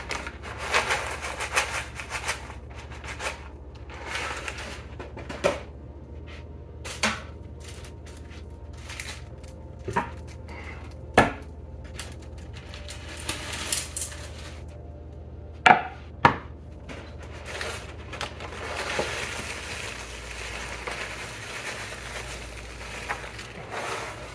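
Food being pounded in a home kitchen for jalapeño poppers, irregular sharp thuds and knocks spread across the clip, some louder hits standing out over quiet background, no talking.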